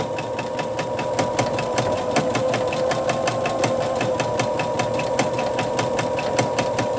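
A sewing machine doing free motion stitching, its needle hammering in a fast, even rhythm with a steady motor hum, close and continuous throughout.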